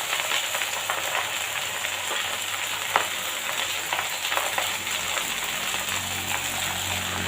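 Bottle gourd leaves and stalks fry with chickpeas in a pan, giving an even, continuous sizzle close by, with a few soft stirring knocks and no voices.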